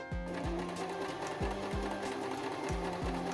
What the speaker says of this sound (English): pin them together and sew a straight loose line near the top